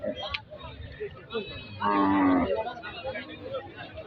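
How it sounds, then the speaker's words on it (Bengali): A single cow moos loudly for about a second, low and drawn out, over faint outdoor background noise. "এটাই আমাদের গরু"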